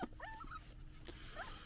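Young puppies whimpering and yipping in thin, rising squeals while held and wormed at home, several brief cries spread across a quiet moment, close and fairly soft.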